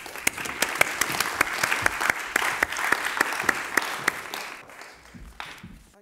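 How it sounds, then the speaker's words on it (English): An audience at a television festival claps as panelists join the host on stage. The crisp, distinct handclaps run steadily, then thin out and fade toward the end. "Thanks for the clap."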